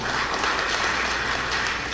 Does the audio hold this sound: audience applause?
yes